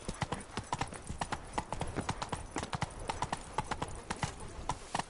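Roach, a horse in The Witcher 3, clip-clops along at a brisk, steady gait. The hoofbeats are close and come in quick clusters.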